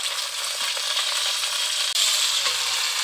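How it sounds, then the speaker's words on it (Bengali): Pointed gourds (potol), salted, fry in oil with a continuous, even sizzle at moderate volume, close by, broken by one brief dip and a soft clack before the hiss resumes unchanged. "এখন আমি পটলগুলোকে একটু ভালো করে ভেজে নেব।"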